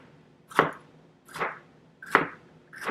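A knife slicing a jalapeno thin on a cutting board, four crisp separate chops spaced about three-quarters of a second apart, close and clear with quiet between strokes.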